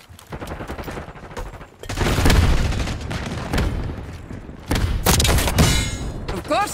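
In Call of Duty Black Ops 6 gameplay, a frag grenade blasts amid dense gunfire, with heavy booms and rapid automatic bursts rolling in two loud waves, chaotic and near, with faint battlefield voices underneath.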